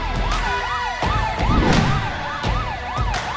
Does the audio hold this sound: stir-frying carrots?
no